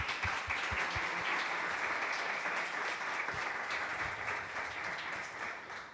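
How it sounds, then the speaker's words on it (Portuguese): Audience applause at a conference: sustained, dense clapping from a large crowd, fairly loud and even throughout, with a few sharper nearby claps at the start. "un fuerte aplauso, por favor."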